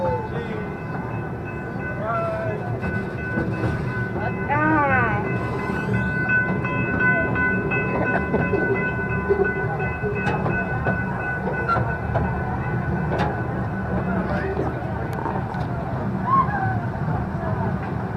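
A small amusement park train ride at Kennywood rumbles and clatters along its track, with a steady tone ringing over the noise; a voice briefly calls out.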